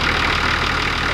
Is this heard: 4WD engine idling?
yes